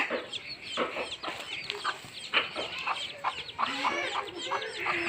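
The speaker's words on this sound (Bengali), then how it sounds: "মুরগিগুলা হাঁটতেছে" Farmyard chickens, with a rooster among them, cluck in short, repeated bursts close by, a busy run of overlapping clucks and squawks over faint background murmur.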